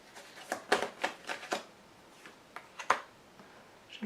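Tarot cards being handled and laid out, several crisp paper slaps and shuffles close by, irregular bursts with short pauses between them, no talking.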